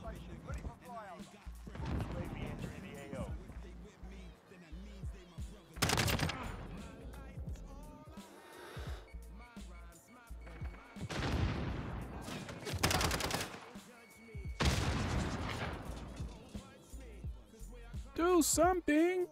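Gunfire in a shooter video game comes as repeated loud bursts and rattling volleys, mixed with a player talking over the action.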